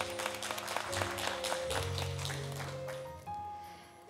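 Audience at a religious leaders' joint ceremony applauding the clergy, a steady patter of many hands with sustained background music tones, fading as the music shifts.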